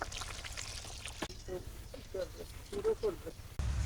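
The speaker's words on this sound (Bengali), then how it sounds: "পানি দিয়ে দিলাম" In a village kitchen, a short stream of water is poured into a cooking pot, faint and close, with soft gurgling splashes under nearby talk.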